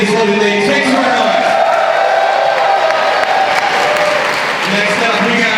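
Crowd at a fan convention applauding steadily and cheering with whoops and yells, a thick, even roar of clapping that holds at full strength throughout, with an announcer's voice faintly underneath.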